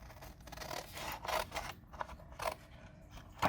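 A blade draws through a sheet of paper on a sliding paper cutter in a quiet room, several soft rasping strokes in close succession, faint and close, with no talking.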